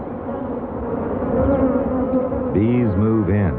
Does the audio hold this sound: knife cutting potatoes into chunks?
no